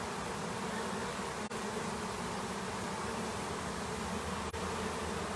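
Honey bees swarming inside a chimney during an extraction, a dense, steady broadband buzz that holds without pause, with two sharp brief clicks.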